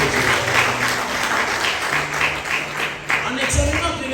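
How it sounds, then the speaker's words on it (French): Church congregation at a French-speaking service led by a prophet applauding and acclaiming Jesus Christ, a steady wash of clapping with voices and cheers layered over it. "Est-ce qu'on peut acclamer Jésus-Christ?"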